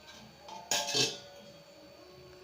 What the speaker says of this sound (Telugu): దీన్ని ఇంక మూత పెడదామండి.